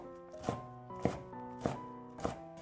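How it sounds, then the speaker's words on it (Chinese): Knife strokes dicing a deseeded green pepper on a cutting board, four sharp evenly spaced chops over soft background music, no talking. "下面准备一个去籽的青椒，先切成细丝，再改刀切成小丁"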